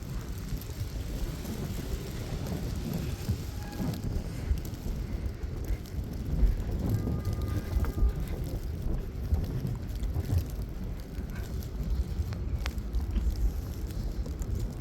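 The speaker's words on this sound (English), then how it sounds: "It's very cold, very windy, and it's heavy snowfall." Strong wind roars steadily through a heavy New York snowstorm, a loud, gusty broadband rush that buffets the microphone, with no voices heard.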